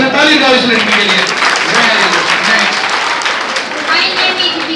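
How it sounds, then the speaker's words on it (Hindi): Students in a classroom at a scholarship test session clap for a girl, a dense, loud burst of applause filling the whole stretch, with cheers and voices mixed in. "ताली बजाओ इस लड़की के लिए"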